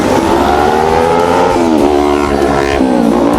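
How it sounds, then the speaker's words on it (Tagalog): A loud motorcycle engine idles and revs up close, with a steady rumbling drone that rises and dips in pitch. "Ingay na motor."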